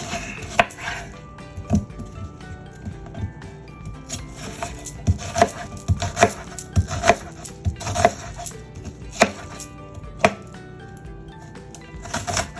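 Knife chopping tomatoes and other succotash vegetables on a board with a freshly sharpened blade, a steady run of sharp, close knocks at an uneven rhythm with a light clink now and then.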